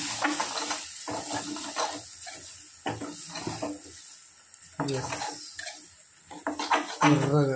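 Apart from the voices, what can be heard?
stirring chili powder into goat meat in pan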